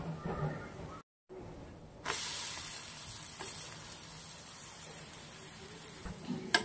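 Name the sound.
upvas bhajani thalipeeth roasting on a pan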